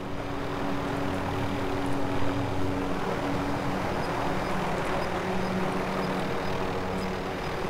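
Helicopter flying in the video game Warzone, a steady droning engine hum with a throbbing rotor tone, loud and continuous throughout with no talk.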